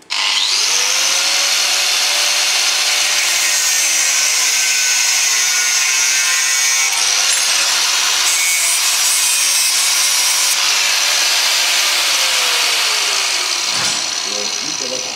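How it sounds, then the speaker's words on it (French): An angle grinder cuts a wooden handle to length, giving a loud, continuous, high whining grind that holds for the whole stretch, with its pitch wavering slightly before it winds down near the end. "découper à la mesure nécessaire avec la disqueuse"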